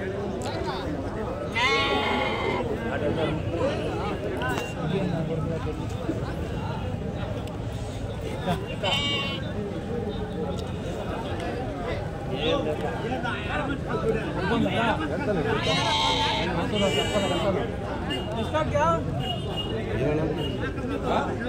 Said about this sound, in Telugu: పొట్టేలు పిల్లలు